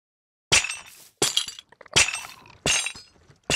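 Chain blocks being placed and broken in the video game Minecraft, heard as five bright, rattling metallic crunches in an irregular series, fairly loud and alone.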